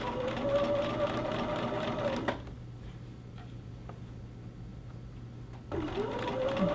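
A sewing machine stitches gathered fabric in a steady whirring run, stops for a few seconds of near quiet with faint clicks, then starts stitching again, close up.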